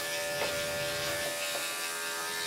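Bravura electric clippers fitted with a quarter-inch purple guard groom a Shih Tzu, giving a close, steady, high electric hum with faint rhythmic changes as the blade passes through the coat.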